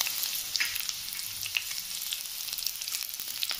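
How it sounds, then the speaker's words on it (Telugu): Green chillies and curry leaves crackle in ghee in a pan, a steady soft sizzle dotted with sharp little pops and spatters, fairly close, with no one talking. "నెయ్యిలో గ్రీన్ చిల్లీ, కర్రీ లీవ్స్ వేసి వేయించుకోవాలి కొద్దిగా"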